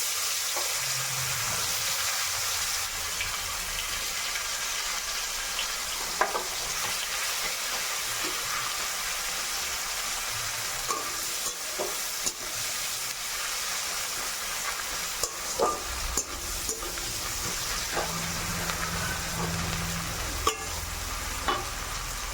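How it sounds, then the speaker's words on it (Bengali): Onions frying in oil with cumin give a long, even hiss of sizzling, steady throughout, with occasional soft clicks and stirs near the pan and no speech. "তো আমার জিরেটা হয়ে এসছে, এবার দিয়ে দেবো পেঁয়াজ।"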